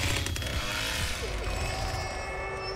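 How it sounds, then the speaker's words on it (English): Chainsaw revving in the Texas Chain Saw Massacre video game, a loud, steady motor buzz with rising and falling pitch that runs for about three seconds over other game sounds. "He burned out his chainsaw, what an idiot."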